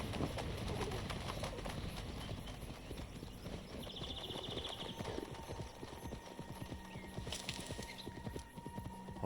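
Hooves of a horse galloping in the video game Assassin's Creed Valhalla, a fast, steady clip-clop rhythm with scattered bird calls and cooing around it and a brief whinny.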